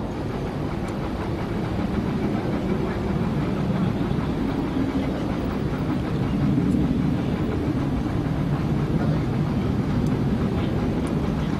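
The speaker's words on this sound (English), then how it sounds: "The Mirages are now running in." Mirage fighter jets running in at a military air show produce a sustained, broad roar that swells slightly toward the middle and then holds steady, with no speech.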